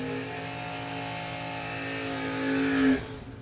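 A Camaro drag race car at a drag racing brawl holds a loud, steady engine drone that swells in pitch and volume near the end, then drops away.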